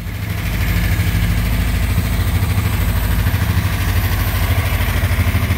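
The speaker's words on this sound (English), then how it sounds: "First time running over 20 years. 1959 Chevy Apache." A 1959 Chevy Apache truck engine running for the first time after 20 years of sitting, a loud, steady, rumbling idle with a rapid low pulsing throb, close by and uninterrupted, no voices.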